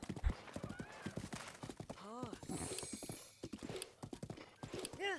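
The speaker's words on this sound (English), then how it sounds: "Except they're on horses as well" Horses trot along a road in the video game Zelda: Breath of the Wild, with rapid rhythmic clip-clop hoofbeats and a couple of whinnies, quiet and close.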